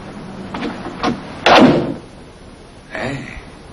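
A door handled in a tense domestic scene from a 1989 film, with a few knocks and rattles, then a loud sliding slam in the middle and a softer bump near the end, close by.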